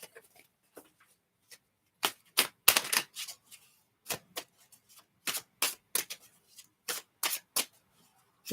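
Tarot cards, a Rider-Waite deck, being shuffled in quick riffling bursts, crisp rapid flutters repeating several times with short pauses between, close and fairly quiet, no talking.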